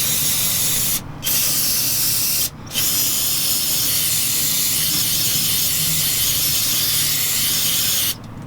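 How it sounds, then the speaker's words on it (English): Brake cleaner hisses from an aerosol can onto the oil filter area of a 2015 Chevy Suburban in three long, loud, steady sprays split by brief pauses. "So now I was about to spray some brake clean just to clean off the residual oil."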